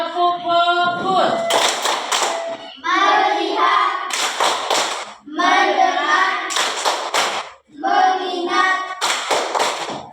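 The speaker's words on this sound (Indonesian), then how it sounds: "Tepuk fokus." Classroom group doing a rhythmic clapping game, tepuk fokus, as a chanted ice-breaker: loud bursts of unison hand claps alternate with a group chanting words in a repeating pattern.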